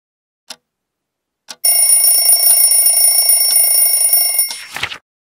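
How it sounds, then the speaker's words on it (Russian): After two small clicks, an alarm clock rings with a loud, continuous metallic trill for about three seconds, then stops with a clunk. "Будильник звенит."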